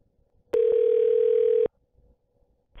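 A telephone line gives a single steady electronic tone after a call disconnects, lasting about a second on its own in an otherwise quiet room.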